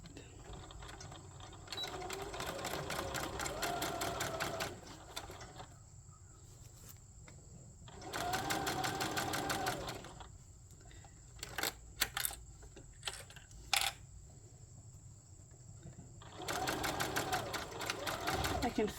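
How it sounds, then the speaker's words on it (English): A sewing machine runs down the seam of a boxy bag in three close bursts separated by quiet pauses, with brief stop-start stitches in between and a voice speaking at times. "we are going to sew all the way down, starting and stopping, or back stitching at the beginning and the end, and along that 3/8 line"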